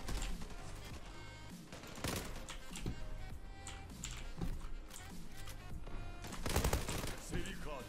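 Rapid automatic gunfire from a crouched shooter in the game Zula, loud and close, with bursts of shots packed densely across the whole stretch and a heavier volley near the end.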